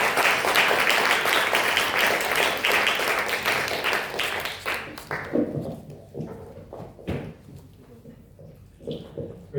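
An audience at a school talk gives a round of applause, loud dense clapping that builds and holds, then thins to scattered claps and dies away over the last few seconds.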